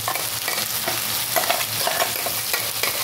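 Pointed gourd (potol) paste goes into a frying pan for a potol chingri dish. It produces a loud, dense, continuous sizzle mixed with constant stirring scrapes, close up and with no voices.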